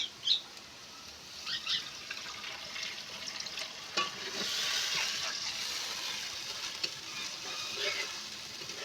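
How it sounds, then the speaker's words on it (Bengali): Fried onions sizzle in a pan as a little water is added for an egg curry, giving a steady hissing crackle with brief splashy bursts, close and moderately quiet, with no voices. "আমার পেঁয়াজটা ভালো করে কষানো হয়ে গেছে এবার আমি অল্প জল দিয়ে দেবো"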